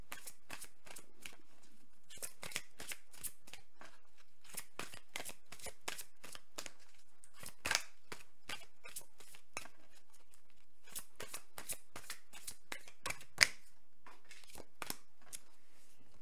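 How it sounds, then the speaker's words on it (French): A deck of tarot cards is shuffled over and over in rapid, crisp riffling bursts, each a flurry of papery snaps with brief pauses between, close and clear with no talking. "Donc je remélange."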